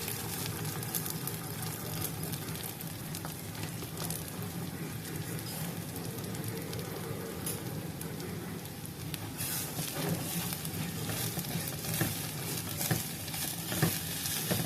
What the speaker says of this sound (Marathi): तांदूळ एक ते दोन मिनटं आपण परतून घेऊया